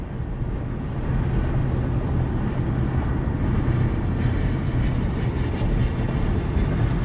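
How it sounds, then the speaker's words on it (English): An airplane passes low overhead as a steady, loud broadband roar that swells within the first second and then holds, continuous and close with no talk over it. "Man, that plane is low."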